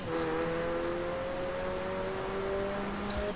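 A McLaren's engine in the Forza Horizon 4 racing game holds a steady, droning hum whose pitch creeps gradually upward, continuous and fairly close, with no voices.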